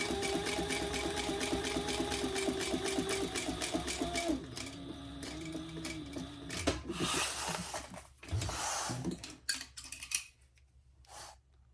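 A sewing machine runs a steady rapid stitch through waterproof canvas, loud and close, then stops and gives way to scattered handling clatter and a few short mechanical bursts.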